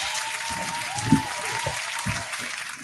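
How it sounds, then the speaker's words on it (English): A podcast audience claps for a guest in a broadband wash of applause that holds steady for a few seconds, with some voices and cheering mixed in near the middle. "let's give her a round of applause"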